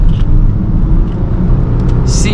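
A car pulls away in a lower gear on a climb across a dam, its engine droning steadily and loudly with faint voices in the background.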